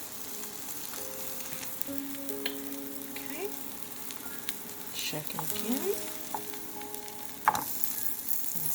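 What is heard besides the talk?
food sizzling while frying in pan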